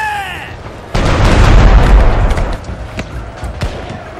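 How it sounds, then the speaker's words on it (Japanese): Cannon fire in the stealth game Shadow Tactics: Blades of the Shogun, a heavy booming blast that rolls into a long loud rumble, with sharp cracks and impacts trailing off afterward. "今すぐ大砲を用意せよ"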